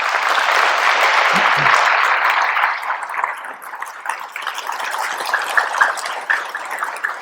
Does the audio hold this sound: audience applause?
yes